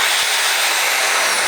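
A handheld power drill whirs continuously at close range, a loud, steady motor whine with no voices over it.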